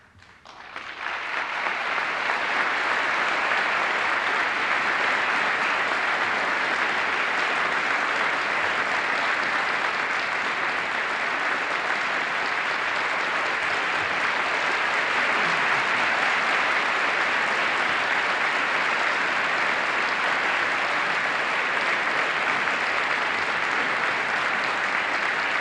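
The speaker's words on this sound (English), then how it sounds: "I have to say that that's very welcome applause." Applause in the chamber during President Jimmy Carter's 1978 State of the Union address, swelling quickly and then holding as a loud, sustained roar of many hands for over twenty seconds.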